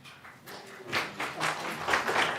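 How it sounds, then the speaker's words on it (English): Audience members at a public meeting break into clapping that starts sparse and quiet, then builds into fuller, louder rounds of hands. "Can I ask the audience not to clap?"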